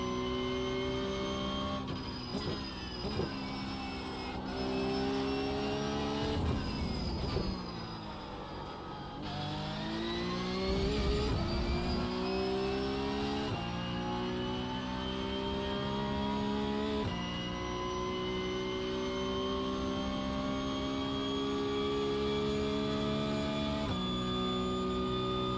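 A Porsche Cup race car engine drones steadily, punctuated by repeated automatic throttle blips that sharply rise and drop in pitch, heard at moderate level with no talking.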